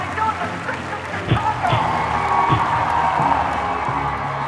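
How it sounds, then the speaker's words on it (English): A large crowd of thousands at an outdoor Ku Klux Klan rally applauds and cheers steadily, a broad wash of clapping and whoops that swells after the opening seconds and holds loud throughout, with scattered voices mixed in. "As Hamilton stepped down to flashing cameras and the applause of thousands"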